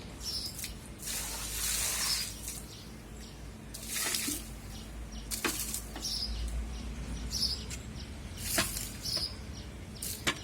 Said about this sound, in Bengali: এই যে গেট খুলে নিচ্ছি, এই তো জল দিচ্ছি